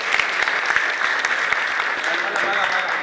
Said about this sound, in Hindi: इसलिए इसे एक बार तालियां बजा।